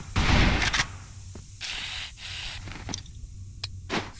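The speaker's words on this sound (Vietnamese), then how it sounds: "Smoking bomb." A smoke bomb hisses in a first-person shooter clan war, loud bursts of rushing spray noise starting and stopping in several surges over a few seconds, with no talking.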